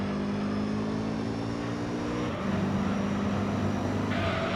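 A mid-rear-engined race car in Gran Turismo 3 on Trial Mountain roars loudly and steadily, dropping in pitch partway through as if shifting gear, then droning on without any voices.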